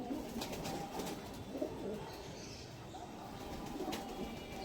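Soft, low cooing comes from a male Teddy pigeon, a high-flying Pakistani breed, in short bursts over a faint, steady background with no voices.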